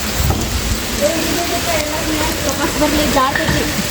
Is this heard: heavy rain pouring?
yes